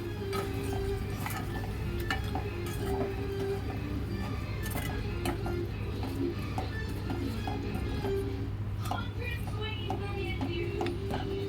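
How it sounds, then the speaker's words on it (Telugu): Fried prawns being stirred into a prawn pickle mixture in a pan, giving soft repeated scraping and clinking of a spoon over a steady low hum, close and fairly quiet throughout. "వేసుకొని బాగా కలుపుకోవాలి."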